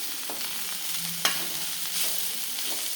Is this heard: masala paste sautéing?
yes